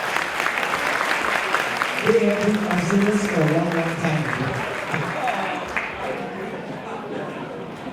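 Applause from attendees at the 32nd International Baba & Nyonya Convention in Melaka, a steady crowd clapping wash running throughout, with someone speaking clearly over it partway through.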